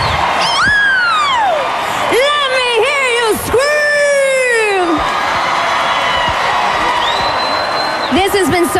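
A big concert audience at the 2003 MTV Europe Music Awards in Edinburgh screams and cheers loudly, with shrill rising and falling shrieks over a continuous roar of crowd noise.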